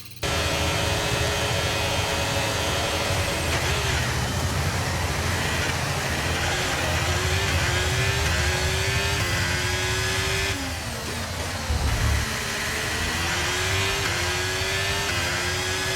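Formula 1 cars launching from the race start at the Austrian circuit in an F1 video game, a dense, loud roar of many engines with rising high-pitched revs and gear shifts, sustained throughout.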